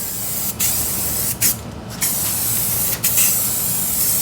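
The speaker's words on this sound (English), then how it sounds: "We're going to go ahead and spray paint it black" Spray paint hissing from an aerosol can onto a wooden frame, coating it black: close, loud continuous bursts broken by brief pauses as the nozzle is released and pressed again.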